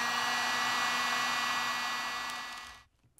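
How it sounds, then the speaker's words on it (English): A heat gun blows steadily on plastic tubing, a loud, even hiss of rushing air with a faint motor hum that holds for nearly three seconds, then cuts off abruptly into quiet. "Let's try the heat gun and see if that helps soften up the tube a little."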